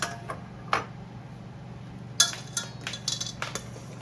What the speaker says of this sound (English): some kind of slotted spoon to get your okra out